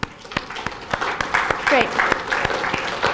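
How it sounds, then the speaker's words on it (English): Audience members at a university lecture clap their hands in scattered, irregular claps that pile up into an uneven patter, with a brief spoken word heard over it. "as randomly as you can, just clap your hands"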